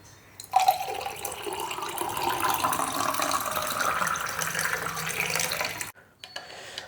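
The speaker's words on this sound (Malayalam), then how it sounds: "ഇനി നല്ല തണുത്ത വെള്ളം ഇതാ" Cold water pours steadily into a glass of homemade juice sweetened with a few spoons of sugar, a continuous close splashing stream that rises in pitch as the glass fills, then stops abruptly.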